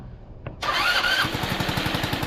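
A GY6 scooter engine on a homemade run stand cranks with a brief starter whir, then catches and settles into a near, steady idle with a rapid pulsing beat.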